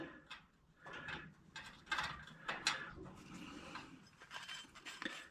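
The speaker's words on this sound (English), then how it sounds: "So we'll go ahead, get that screw in there." A screw is driven in during wood stove maintenance, giving soft, repeated ratcheting clicks and mechanical turning sounds, quiet and close, with no talk.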